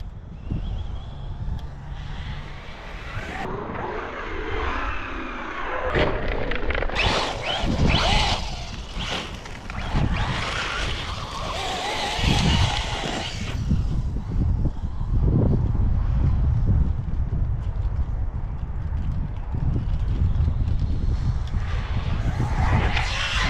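A fully modified Traxxas Rustler 4x4 RC car on Pro-Line tires rips around outdoors, its motor whining and tires skidding in repeated bursts, loud and near, with wind buffeting throughout.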